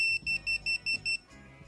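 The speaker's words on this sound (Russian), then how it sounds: "Чем быстрее оно пикает, тем больше напряжение." A GVDA voltage tester held near live wiring beeps five times in an even, fast rhythm, sharp and close, then falls quieter with a faint lingering tone.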